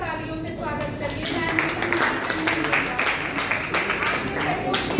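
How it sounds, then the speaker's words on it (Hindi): An audience gives enthusiastic applause to welcome a guest at an installation ceremony, a dense patter of clapping that builds after the first second and carries on under a voice. "जोरदार तालियों से स्वागत करिए"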